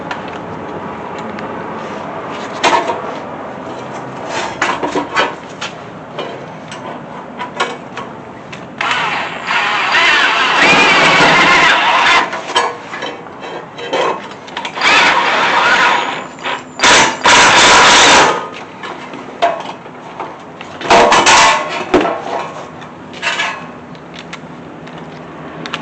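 Screws being driven into a homemade muffler cover: close, buzzing bursts from a power driver, some long and some short, over steady background noise.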